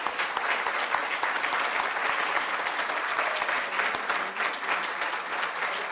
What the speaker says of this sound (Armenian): Խնդրում եմ ծափերը մի խնայել